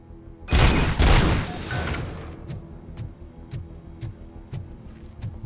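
Gunfire in Robocop: Rogue City destroys a fuse box: a loud burst of shots up front, then a trail of sharp metallic clicks and debris ticks fading over several seconds.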